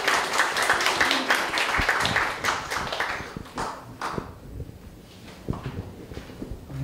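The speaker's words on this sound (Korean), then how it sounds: "오늘의 특강을 부탁드릴 우리 조은근 대표님을 큰 박수로 다시 한번 모시도록 하겠습니다." Audience applause welcoming a lecturer to a history lecture, brisk clapping for a few seconds that thins into scattered claps and light footsteps.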